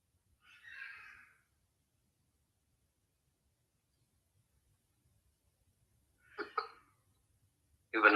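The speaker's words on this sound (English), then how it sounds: "You've a nasty cough" A man coughs in a radio drama, with a faint rough burst early on, then two short close coughs and a louder harsh cough at the end, all separated by silence.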